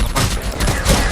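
A video-game minigun fires in a dense, continuous rattling burst that stays loud and steady across the whole short clip.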